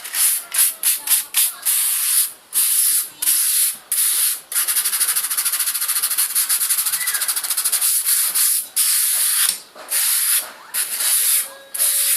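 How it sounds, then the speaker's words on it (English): Close, rhythmic hand sanding of an antique Moro kris with 200-grit sandpaper: bursts of dry, hissing scrapes repeat in strokes, some quick and short, others longer and continuous. "Now I'm gonna give it a light sanding, scratch pad, and this is 200 grit sandpaper."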